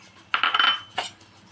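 A metal utensil clinks in a kadhai as dal is added for roasting: one quick cluster of bright clatters, then a single shorter clink a moment later, close and fairly loud with no talk.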